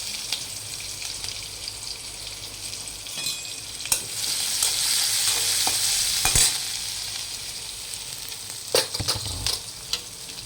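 Washed vegetables dropped into a hot pan with cumin, chilli and garlic and stir-fried, a steady broad sizzle with scraping stirs and occasional clatter, close and loud, with no talking.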